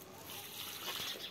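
Water poured over freshly planted plants in a garden, a steady close gush splashing onto soil and leaves, brief and continuous.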